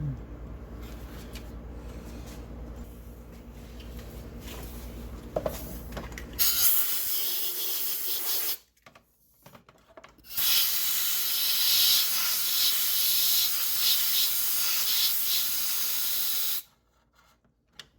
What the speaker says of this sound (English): Blow any dirt out of there.